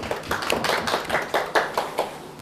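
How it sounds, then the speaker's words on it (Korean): Lecture-hall audience at a Korean real-estate law class applauding, a short burst of scattered hand claps with a loose, uneven rhythm, near and moderately loud. "박수 한번 쳐주시고."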